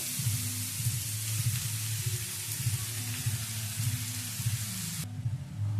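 Chopped bottle gourd goes into hot oil with tempering spices and sizzles steadily, a loud continuous frying hiss with a low hum underneath.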